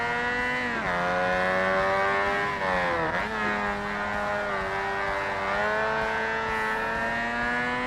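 Race car engine from the 2005 Xbox game Forza Motorsport, droning steadily at high revs with clear harmonic whine, dipping briefly on gear changes and corner lifts before climbing again, loud and continuous with no talk.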